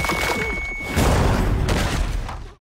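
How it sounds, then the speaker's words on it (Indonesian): A nano bomb explodes with a loud, close boom and rumble, followed by crackling debris and a roaring blast tail that fades abruptly. "tiba-tiba bom nano meledak"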